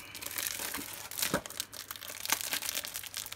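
Crinkling and tearing of a wedding-themed ceremony paper pack being opened, with irregular crackly rustles and a couple of sharper rips around the middle, close and moderately loud, no talking.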